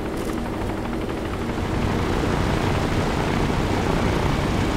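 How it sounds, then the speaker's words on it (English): An enemy helicopter in the video game DayZ approaching as a steady, dense rotor and engine roar that grows slightly louder and fills the sound alone. "Oh, I hear the enemy chopper."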